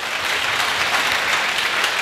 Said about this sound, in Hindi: तो एक बार फिर से इनके लिए तालियां हो जाए।